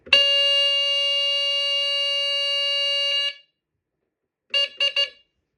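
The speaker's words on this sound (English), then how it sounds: "that's the Guardian FB1A" A Guardian FB1A smoke alarm with a squealer lets out a loud, steady high-pitched tone for about three seconds, then after a pause gives three short sharp chirps.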